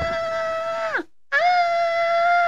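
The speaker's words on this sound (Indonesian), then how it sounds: "mereka melihat ke dalam cermin dan menjerit dengan sekuatnya" Children scream loudly in two long, sustained, piercing cries separated by a brief pause, heard alone and close.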